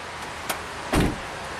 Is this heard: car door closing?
yes